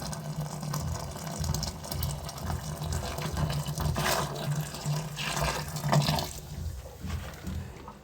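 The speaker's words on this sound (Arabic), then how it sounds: "الميه السخنه بتاخد البوتاص وبتنزل في الماسوره الام" Hot water carrying potash drains down a clogged household pipe, a continuous gurgling rush of liquid with uneven surges and splashes, close and moderately loud, with no talking.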